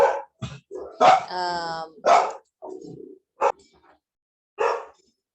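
Puppies kept inside a house bark, yip and whimper close by in short bursts, including a drawn-out whine, mixed in with a person talking.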